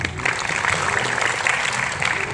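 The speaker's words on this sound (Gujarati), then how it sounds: "પહેલાં તો ઉમેશભાઈ માટે જબરદસ્ત તાળીઓ પાડો" An audience at a Gujarat Tourism cine media awards event applauding for Umeshbhai, a steady dense burst of clapping throughout, moderately loud, with no clear speech over it.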